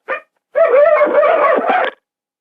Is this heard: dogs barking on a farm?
yes